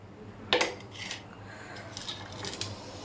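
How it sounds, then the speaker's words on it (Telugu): Chana dal tipped into hot tempering oil in a pan for lemon rice, giving a sharp clatter at the start, then softer scattered rattles and light sizzling, close by with no talk. "శనగపప్పు ఉంది కదా, శనగపప్పు యాడ్ చేసుకుందాము."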